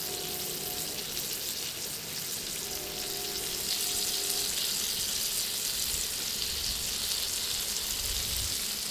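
Butter sizzles on a Blackstone griddle while steak and lobster are basted, a steady, dense frying hiss with no pauses and no one talking.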